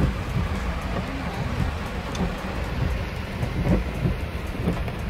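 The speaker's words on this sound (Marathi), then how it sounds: "पाऊस पडतोय त्याच्यामुळे एवढं दिसत नाही." Steady, dense rainfall pours down continuously, a loud wash of noise with a deep low rumble beneath it.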